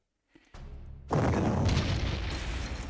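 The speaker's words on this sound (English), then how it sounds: "That was just artillery." Artillery fire in the GC-39 war game: a few faint thumps, then a heavy booming blast that rolls on as a loud, rumbling barrage.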